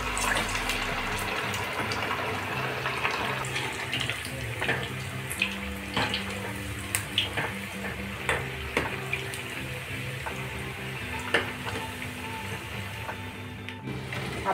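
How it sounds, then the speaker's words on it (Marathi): Fasting medu vada deep-fry in a pan of hot oil until brown, a continuous bubbling, watery hiss with occasional sharp pops and clinks, close and steady without any voices. "छान गरम झालेले आपण यात वडे टाकणार आहोत, तळून घेणार आहोत, छान ब्राऊन होईपर्यंत तळून घेणार आहोत"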